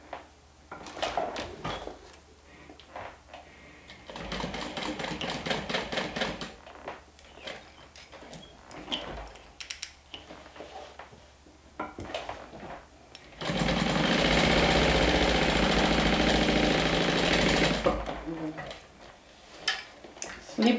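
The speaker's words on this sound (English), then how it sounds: "So right now I will be stitching, leaving an opening at the bottom." A sewing machine stitches a bag in several runs, giving a rapid mechanical whir-and-tick that starts and stops between pauses. The longest and loudest burst comes near the end, and a person speaks between runs.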